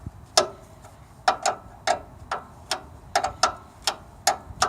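A wrench working a brake hose fitting loose on a 1961 Land Rover Series II: sharp metallic clicks come in irregular short bursts, close and distinct over a quiet background.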